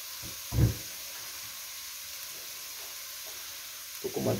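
Onion sautés in oil in a pan with a soft, steady sizzle and faint hiss, broken by a short stirring scrape near the start and a few more scrapes at the end; no talking.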